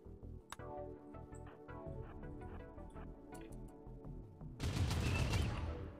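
Gunfire in the video game RimWorld: a run of scattered sharp shots and clicks over a steady game backdrop, then a loud dense burst of fire near the end.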